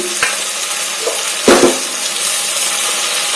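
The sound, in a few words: frying ginger, garlic, masala and coconut in pan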